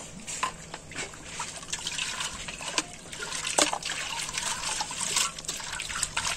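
Sooty cooking pots used over firewood are washed with rainwater from a tank in a village, with trickling, splashing water and scrubbing clatter continuing throughout at close range.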